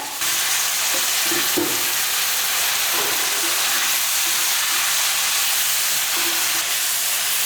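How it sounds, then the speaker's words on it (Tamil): Eggplant sautéing in oil in a pan, a loud, dense, steady hissing sizzle that runs without pause, with faint stirring knocks now and then. "கத்திரிக்காயை நல்லா இந்த எண்ணெயிலேயே நல்லா வதக்கிடலாம்"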